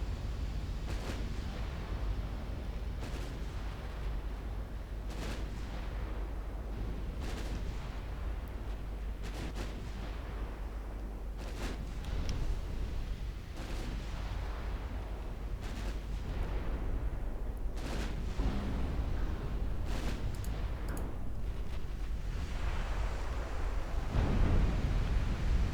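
Heavy cruiser guns firing HE shells in Ultimate Admiral Dreadnoughts, 1910-era naval battle: repeated sharp gun reports every second or two over a steady rumbling sea-and-engine bed, moderately loud and sustained.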